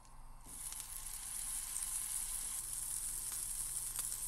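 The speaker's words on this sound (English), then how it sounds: "Let's go ahead, clear this off, and pan sear it." Meat sizzles steadily as it is pan seared with salt and pepper, a dense, continuous frying hiss that swells after a short, quieter start and holds close and even throughout, with no voices.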